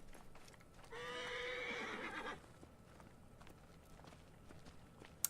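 A horse neighs loudly in Assassin's Creed Origins, a long, wavering whinny with distinct harmonic tones that lasts about a second and a half. Soft hoof steps and ambient game sound continue quietly afterward, with no talking.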